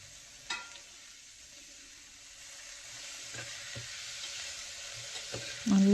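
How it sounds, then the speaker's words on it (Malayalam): Sliced onions with salt are sautéed on high flame for a Kerala-style mutton curry, giving a soft, steady sizzle with occasional light stirring knocks. "ഹൈ ഫ്ലെയിമിൽ തന്നെ വെച്ചിട്ട് നന്നായിട്ടത് വഴറ്റി കൊടുക്കാം"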